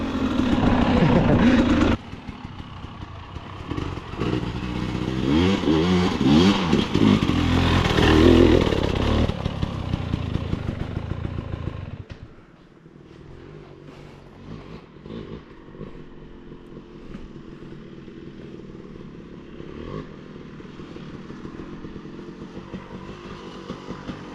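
A dirt bike engine revs hard with heavy throttle while riding through snow, loud and buzzing for the first dozen seconds, then drops to a lower, rougher idle-like drone with a person talking over it.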